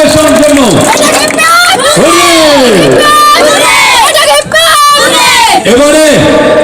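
A crowd at a women's football event cheers and applauds for the minister, a loud, dense roar of voices and whoops that carries steadily throughout.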